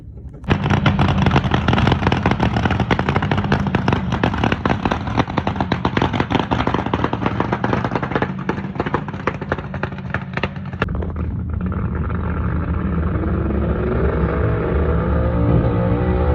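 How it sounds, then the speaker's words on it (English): A dragster fires off from the line at Thunder Valley test and tune, a deafening sustained crackling roar from very close that runs about ten seconds, then fades into a lower engine rumble as it heads down the strip. "We're next in line after that dragster. They're about to fire off"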